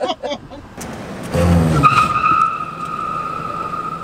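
A car creeps forward at about 10 to 15 mph without braking during a crash test at the Insurance Institute for Highway Safety, with a short surge of engine and tire noise followed by a steady hum and faint whine.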